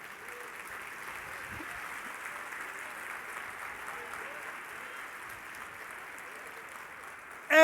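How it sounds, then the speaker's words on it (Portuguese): Congregation applauding during a church service, a steady, fairly soft wash of clapping that continues evenly before a sudden loud burst at the very end. "Você pode dar um aplauso ao nome do Senhor Jesus?"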